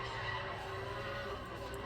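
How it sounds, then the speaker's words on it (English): Tires skid and squeal continuously as a car drifts in the Need for Speed racing game, with the engine droning underneath, loud and steady for the whole stretch. "That was a pretty good drift."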